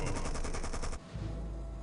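A turret at a military base in Anachronox fires a fast, rhythmic burst of automatic shots for about a second, loud and close, then stops, leaving a low hum.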